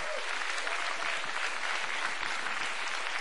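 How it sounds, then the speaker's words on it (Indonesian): Dense, steady applause from a large crowd at a presidential inauguration in Indonesia, continuous and loud throughout with no voices over it. "Tepuk tangan untuk bangsa Indonesia."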